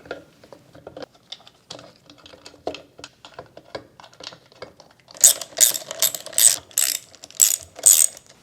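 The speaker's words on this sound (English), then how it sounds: "We then want to tighten the flywheel to 116 foot-pounds." Rapid clicking of a ratchet wrench tightening the flywheel on a Honda GXV530 overhead-cam twin-cylinder engine, light ticks at first, then sharp loud bursts of clicks close to the microphone, no speech.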